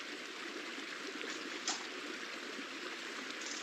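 Steady recorded sound of a bubbling brook, a continuous soft rush and trickle of flowing water at an even level, playing quietly in the background of a chair yoga session.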